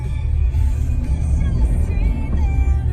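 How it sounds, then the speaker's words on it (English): A 2019 Chevrolet Silverado truck accelerates and then brakes hard, heard from inside the cab as a loud, steady low engine and road rumble with tire noise. "Why don't you speed up and then just lock on the brakes?"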